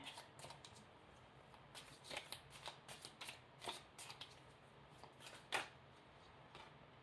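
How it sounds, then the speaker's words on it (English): Quiet, close riffling and soft slaps of small round cards being shuffled repeatedly, an uneven stream of light clicks and flutters. "these are little rounds, so they're kind of hard to shuffle"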